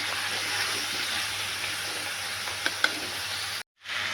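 Spices, crushed black pepper, ginger and garlic sizzle in a pan for an aloo parwal sabzi while being stirred. A steady, close frying hiss runs throughout with a few faint utensil taps, then cuts out briefly near the end.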